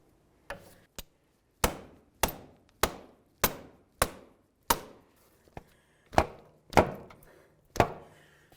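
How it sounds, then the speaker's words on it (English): A rubber mallet strikes the axle nut of a front left CV axle on a 2000-2005 Buick LeSabre about a dozen times, driving it into the transmission with sharp, close, evenly paced thuds and no talking. "I'll take a rubber mallet. I'm going to give this a couple loving bonks to drive it into the transmission to completely seat it."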